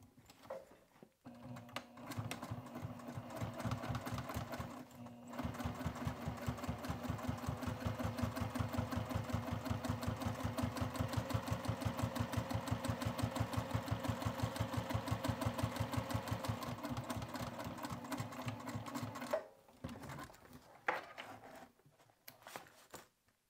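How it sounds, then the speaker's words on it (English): A sewing machine top stitches fabric an eighth of an inch from a folded edge, running in one long steady pass with a dense rapid needle rhythm, starting and stopping briefly near each end, close and alone. "I'm going to top stitch 1/8 inch from this top edge"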